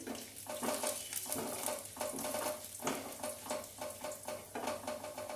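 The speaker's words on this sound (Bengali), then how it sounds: "এবার নাড়াচাড়া করে" Lentils frying in a pan for a bitter gourd curry, a loud, close sizzle with a rhythmic series of scraping stirs about once a second.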